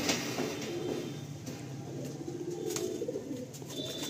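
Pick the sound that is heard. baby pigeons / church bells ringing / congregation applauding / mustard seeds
baby pigeons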